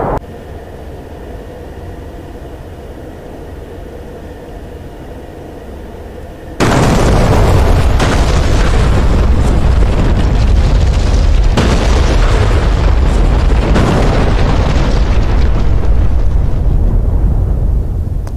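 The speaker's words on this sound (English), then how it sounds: "So the main casing has now exploded and these bomblets are heading down." Cluster bomb bomblets rain down and detonate across a vehicle convoy in DCS World, a loud, dense barrage of overlapping blasts and crackling bursts after a steady jet engine hum, rolling on for about twelve seconds.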